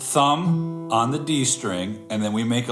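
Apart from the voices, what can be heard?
No distinct noise like a dog, phone or traffic.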